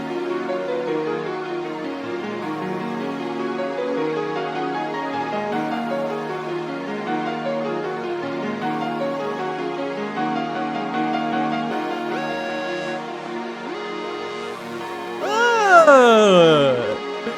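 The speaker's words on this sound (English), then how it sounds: "The whole melody together sounds like this right here." Jerk-beat intro melody: a bright, repeating synth line with layered notes, steady and fairly loud throughout, ending with a swooping, pitch-bending flourish near the end.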